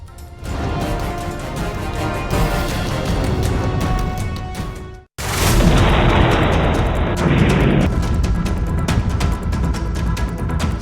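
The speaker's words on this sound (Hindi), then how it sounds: "सबसे बड़ा धमाका।" Loud, sustained rumbling bomb blasts from the Russia-Ukraine war with crackling bursts, a brief drop to silence midway, then another heavy roaring explosion continuing to the end.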